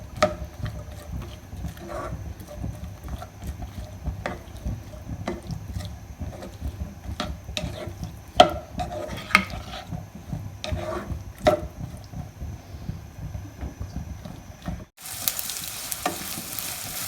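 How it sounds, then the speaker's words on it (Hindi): Chopped onions sizzle in oil in a hot pan with a soft, steady frying crackle, punctuated by occasional sharp clicks and taps of stirring, fairly quiet and close with no talking. "प्याज को हम ब्राउन कर लेते हैं।"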